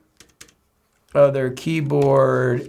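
A small wireless keyboard for an Onyx Boox Tab X clicks with a few faint, light key taps, then a voice speaks over more typing.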